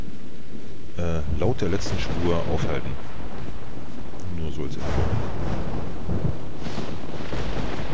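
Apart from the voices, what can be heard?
thunderstorm in the video game theHunter: Primal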